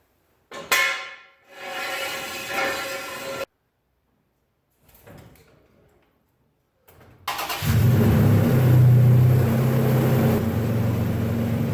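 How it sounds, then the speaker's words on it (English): A long-travel truck drives laps around the block, its engine starting and then running loud and steady with a strong low rumble, after a stretch of other mechanical noises and short pauses. "In the truck, I've done a few laps around the block."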